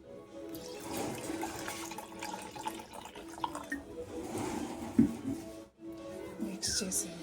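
Water pours steadily into lemon juice along with salt and honey or sugar, a close, continuous liquid trickle with a brief break near the end, while a voice talks over it.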